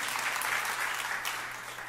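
A church congregation claps warmly during an Indonesian-language sermon, a thick continuous wash of applause that tapers slightly toward the end, with no voices over it.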